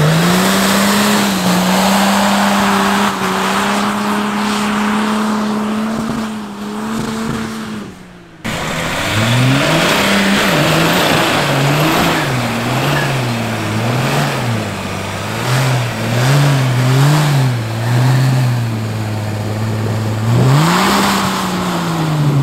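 A Nissan Patrol on 35-inch tyres roars at full throttle through mud, its engine holding a loud steady drone, briefly cutting out, then revving up and down in surging waves as it pushes forward.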